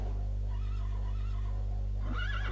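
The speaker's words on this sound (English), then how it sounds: "There's a suffering horse somewhere." A horse in the video game Minecraft neighs in a drawn-out, wavering whinny that rises at the end, heard clearly over a steady low hum with no talking.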